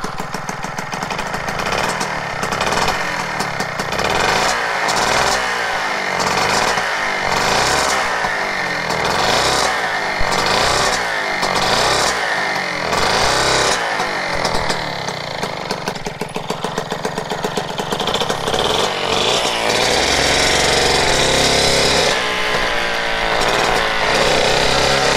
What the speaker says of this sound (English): It's got that ticking sound that I love. And you hear it when it revs up.